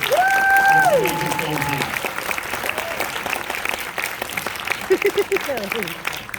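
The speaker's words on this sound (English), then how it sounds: "Let's have another round of applause, please, for this phenomenal film." Sustained audience applause at the Dear Evan Hansen film premiere at Lincoln Center, a dense steady wash of many hands clapping, with whoops and cheering voices rising over it near the start.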